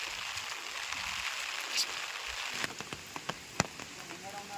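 A forest waterfall at Sarkepalle Bugga near Wankidi, Asifabad, gives off a steady, airy hiss, with scattered close tapping drops breaking through in the last couple of seconds.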